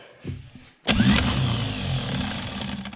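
After a brief quiet start, an old car starter motor on a bench test, with no load, suddenly spins up with a loud whirring whine that holds steady, slightly growly, close by.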